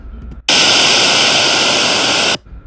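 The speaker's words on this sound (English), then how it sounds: "So this is a generation of white noise." White noise generated in Audacity bursts in abruptly after a brief quiet, hisses at a loud, constant level across the full range for nearly two seconds, then cuts off sharply into near silence.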